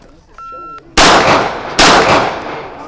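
Two sharp, loud gunshots at a shooting range, spaced under a second apart, each leaving a long reverberant tail, after a short electronic signal beep.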